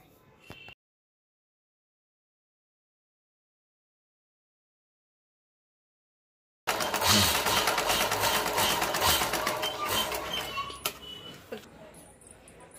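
Sewing machine stitching a homemade cloth flag at home, a loud continuous mechanical whir running steadily for several seconds after a long stretch of silence, then tapering off near the end.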